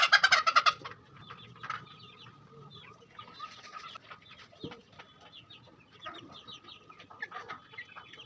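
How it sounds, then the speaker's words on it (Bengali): Tiger-breed chicken chicks peep rapidly and repeatedly, with a loud burst of chirping at the start, then steady softer cheeping close by, along with faint rustling. "দেখুন কতটা অলস টাইগার মুরগির বাচ্চা"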